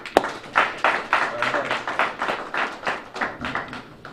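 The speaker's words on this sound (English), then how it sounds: "Give them a big round of applause," A small audience claps for the Peaceoholics in a quick, even rhythm of distinct hand claps, close and fairly loud, starting with one sharp clap.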